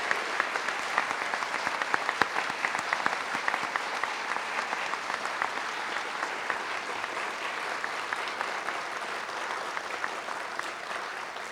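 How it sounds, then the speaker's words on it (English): Steady applause from an audience at a police department awards ceremony, continuous and even throughout with dense clapping and no talk over it. "I ask that you give one more round of applause to all of our recipients today."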